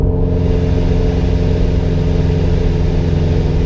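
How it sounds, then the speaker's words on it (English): A supercharged Subaru BRZ engine idling with the air conditioning switched on, a loud, close, steady mechanical drone with a dense low rumble and a faint whine above, unchanging throughout. "when I turn the AC on, go ahead and turn it on right now, put it on level 2"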